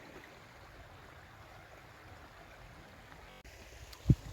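A river on the Pennine Way near Malham runs with a soft, continuous rushing murmur at a moderate distance, broken by a brief knock and a sharp click near the end.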